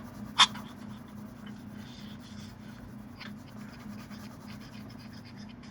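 Pencil shading on paper for a cone drawing, soft continuous scratching and rubbing strokes close by, quiet overall, with one brief sharp tap near the start.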